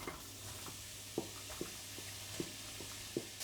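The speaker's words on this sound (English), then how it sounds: "I have in my pan some oil, and I am just going to put in this is 1 chopped onion" Chopped onion in hot oil in a pan, a quiet steady sizzle broken by occasional soft stirring taps, close and without talk.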